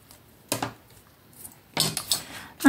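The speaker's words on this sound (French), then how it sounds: "Hop, je coupe." Double-sided tape being snipped for a handmade Christmas card, two short crisp cutting sounds a little over a second apart, close and clear against quiet, with no talk.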